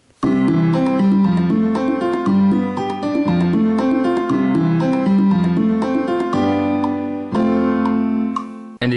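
Synthesized piano chords programmed in GarageBand for a remix, a steady rhythmic pattern of bright repeated chords with a deeper bass line, played loud and alone, ending with a final struck chord.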